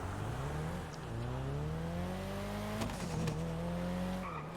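A modified Nissan Skyline engine in GTA 5 revs and drones steadily, its pitch climbing gradually, dipping briefly and picking back up, loud and close with a faint tire squeal near the end.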